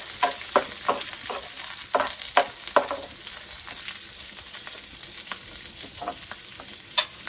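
Chana dal, urad dal, mustard seeds, cumin and green chillies fry in hot oil, a steady close sizzle broken by repeated scraping and clinking from a stirring spoon, with no speech.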